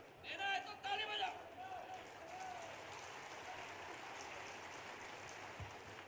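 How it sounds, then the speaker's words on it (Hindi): Crowd of women clapping at a public government scheme event, a broad wash of applause that starts over a loud amplified voice and then continues steady and dense on its own. "देना है तो ताली बजाओ।"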